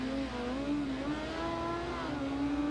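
A Honda motorcycle engine in the racing video game Ride 2 holds a steady whine, its pitch drifting up and down a little as it revs at moderate volume with no talk over it.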